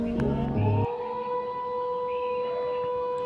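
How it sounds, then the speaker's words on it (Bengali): A siren sounds at 3 a.m. in Bangladesh to wake people for the first Ramadan sehri meal, a steady distant wail holding a sustained tone after a brief louder burst of other noise at the start. "এখন ৩টা বাজছে আর সবাইকে সেহরি খাওয়ার জন্য সাইরেন বাজানো হচ্ছে।"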